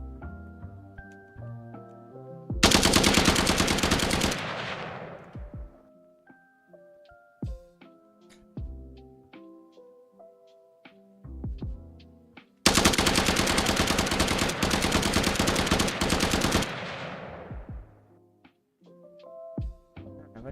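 Sustained automatic gunfire bursts from a Christian top-down shooter video game, two long rapid-fire volleys several seconds each, separated by quieter stretches of tonal game music and beeps.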